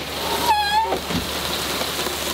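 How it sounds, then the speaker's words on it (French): Heavy rain pours steadily in Cameroon during the rainy season, a dense even hiss across the whole stretch, with a brief tonal whine near the start and no talking. "Il pleut beaucoup, hein."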